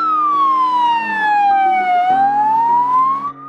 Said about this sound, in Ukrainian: Ця швидка поспішає на виклик у Вінницькій області.